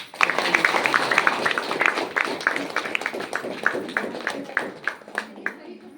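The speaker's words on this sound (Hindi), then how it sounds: "चलिए सबसे पहले यहाँ मैडम है, इनके लिए जोरदार ताली होनी चाहिए।" An audience applauds someone speaker with dense clapping that thins into scattered, distinct claps as it fades, while a voice talks over it.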